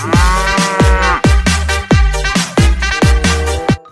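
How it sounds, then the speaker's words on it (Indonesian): A cartoon cow in a dinosaur video game moos in a rapid string of about eight loud, close, identical descending calls, one after another with no talking. "Wow, ada hewan sapi."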